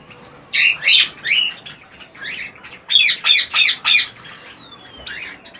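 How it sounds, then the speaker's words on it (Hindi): Cockatiels in a cage give a run of loud, harsh squawks in two bursts, close and shrill, with a brief rustle of wings between the calls. "ये कॉकटेल का केज है और इसमें हम देख लेते हैं"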